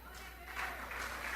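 A church congregation applauds during a worship service, steady clapping filling the room at moderate volume with a voice speaking over it.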